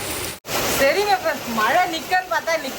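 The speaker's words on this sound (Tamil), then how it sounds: "மழை வந்துருச்சு" Heavy rain pours down in a village, a steady broadband hiss running through the whole stretch while a person talks over it.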